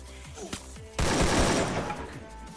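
Gunfire in a shooter video game: a sudden loud burst of shots erupts about a second in and continues as a dense, close volley to the end, with faint game sounds before it.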